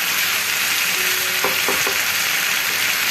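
Duck curry being stirred in a hot pan, a steady broadband sizzle running throughout with a few brief scraping knocks of the spoon near the middle, close and fairly loud, no voices.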